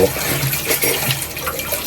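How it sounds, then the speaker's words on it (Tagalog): Tap water runs into a sink while dishes are washed, a loud steady splashing gush with clinking textures, continuous for two seconds with a voice faintly underneath. "ngayon po ay maghugas po ako ng plato dito guys"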